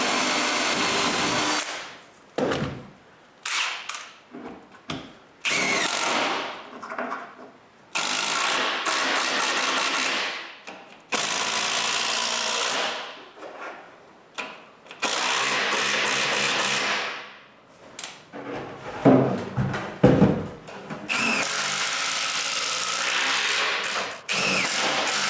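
Power drill driving screws to fix wooden boxes in place for a workshop dust filtration system, in repeated loud bursts of whirring motor broken by short pauses and clunks.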